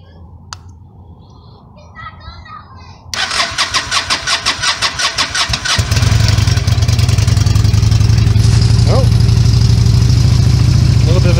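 A motorcycle with a new gel battery cold starts on choke: the starter cranks in rapid pulses for a few seconds, then the engine catches and settles into a loud, steady idle close by.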